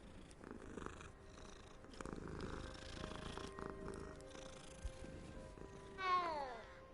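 A cat in Hogwarts Legacy purrs in a soft, continuous low rumble, fairly close, with a short meow near the end over quiet game background sound.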